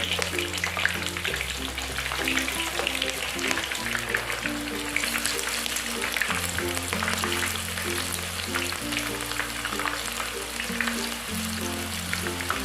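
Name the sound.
shallots frying in hot oil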